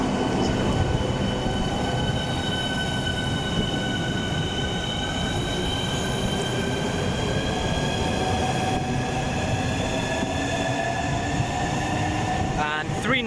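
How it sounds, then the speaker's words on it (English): A double Class 395 Javelin high-speed train pulls out of Stratford International on HS1, bound for Ramsgate via Faversham. A loud, steady roar of wheels and traction fills the scene close by, with rising electric whines as it accelerates away. "A double javelin leaving for"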